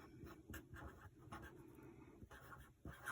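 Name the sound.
writing on a sheet of stickers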